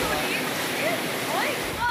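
Floodwater after a heavy storm rushes steadily through a flooded downtown street in Pouso Alegre, a continuous broadband wash and splash throughout, with faint chirping sounds over the flow.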